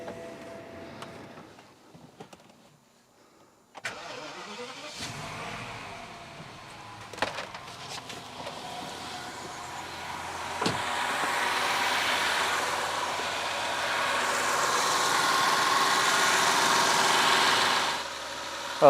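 A BMW V12 engine, just back together after an alternator bracket seal gasket replacement, cranks over and fires, then settles into a smooth, steady idle that builds slightly in loudness before easing near the end.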